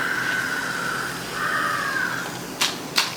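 Thattai dough discs frying in hot oil, a steady bubbling sizzle that dips briefly before two sharp crackling bursts near the end.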